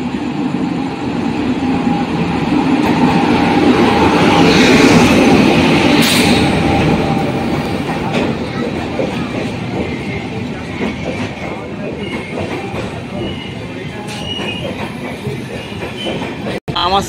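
A passenger train pulling into platform 2 at Bankura Junction fills the air with a steady, loud rumble and rattle of rolling cars, and a clank sounds near the end. Voices murmur underneath.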